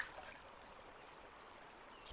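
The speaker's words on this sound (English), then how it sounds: "Let's listen to the sound of the water." A stream's water flows steadily outdoors as a soft, continuous broadband rush, close and even for the whole stretch with no talk over it.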